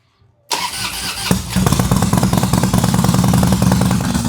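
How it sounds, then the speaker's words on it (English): A 2006 Harley-Davidson Dyna fitted with a Trask header cranks and fires, its engine quickly settling into a loud, close, lumpy idle with a steady throbbing pulse. "So let's go ahead and start the bike."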